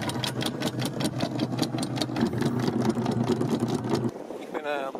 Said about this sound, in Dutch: Ik ben op de motor vertrokken uit Fayal.